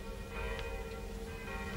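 A bell tolls with a sustained ringing tone under a dense bed of town noise, steady and moderately distant.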